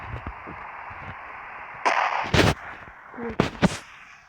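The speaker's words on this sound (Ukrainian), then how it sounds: "там, там обстрелы йдуть" Gunfire and shelling in the video game Ravenfield: a handful of sharp, loud blasts, one near 2 seconds, one at 2.5 seconds and a close pair around 3.5 seconds, over a steady low background rumble.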